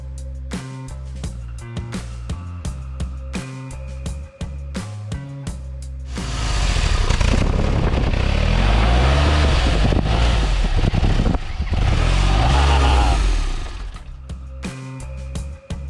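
A DeLorean engine, partly reassembled with a hose clamp still to fit, cranks and catches, then runs loud and rough for several seconds before cutting out, with quieter mechanical clicks and tones around it.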